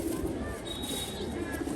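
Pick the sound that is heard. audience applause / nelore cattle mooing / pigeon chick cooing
pigeon chick cooing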